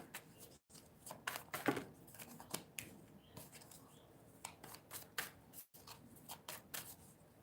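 Rapid, crisp riffling and flicking of tarot cards being shuffled close up, in irregular bursts with brief pauses.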